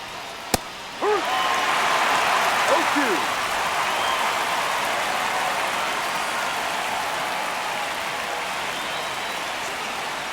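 Steady roar of a baseball stadium crowd in the ninth inning of a one-run game between the Braves and Giants, a broad continuous wash of noise with a sharp crack near the start and brief whistles.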